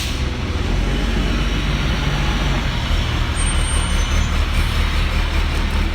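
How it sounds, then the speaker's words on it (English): Trucks whiz by on a road, a loud, continuous rumbling roar of heavy traffic passing close by, with no pause, and a faint high squeal partway through. "the trucks are whizzing by, and I'll stop as they go by"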